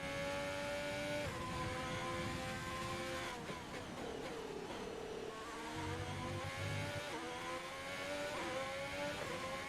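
An F1 race car in the video game F1 2020, on the Australia circuit, accelerates with a continuous high-pitched engine whine that climbs and drops through gear shifts, steady and fairly loud with no talk over it.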